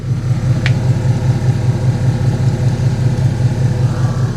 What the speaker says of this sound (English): That's an air compressor. Do you hear it? It's under the truck.